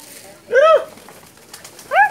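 Domestic pigeons cooing up close, two clear rounded coos about a second and a half apart over a quiet background.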